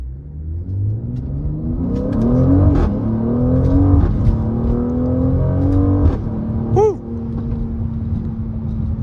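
Mercedes-AMG GLC43 SUV accelerating from inside the cabin, a loud, steady engine note climbing in pitch through the gears with a brief shift dip near the end.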